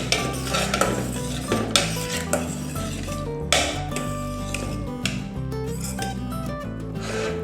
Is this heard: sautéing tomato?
yes